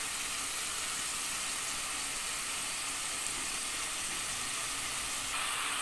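Boneless chicken handi sautéing in hot oil in a handi pot, a steady close sizzle and hiss of frying that runs continuously without talk.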